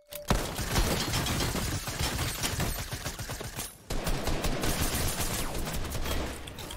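Dragon's Breath shotgun fire in Fortnite: a dense, loud run of sharp blasts and crackling bursts that fill the whole stretch, with a brief drop in intensity just before resuming.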